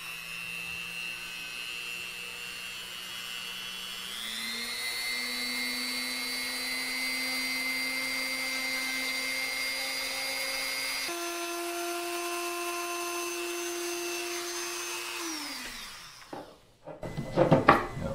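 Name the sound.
cutter routing an electric guitar body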